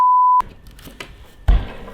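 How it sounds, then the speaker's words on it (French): A single steady censor beep, loud and clean, lasting about a third of a second, followed by faint room noise and a short thump. "il va mettre un bip"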